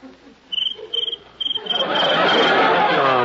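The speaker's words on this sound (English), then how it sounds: "I'll fix that cricket." A cricket chirps at night in a classic radio drama sound effect, a series of short regular chirps that then give way to a louder, steady rushing noise, with no talk.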